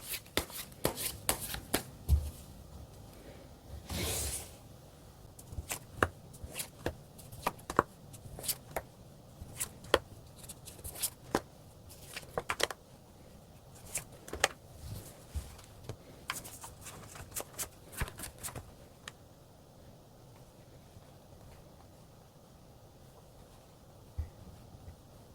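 Tarot cards are shuffled by hand in a long run of crisp riffles, flicks and taps that come in irregular bursts, close and clear, easing off toward the end.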